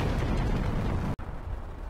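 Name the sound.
powder explosions in a fort, Final Fantasy Tactics video game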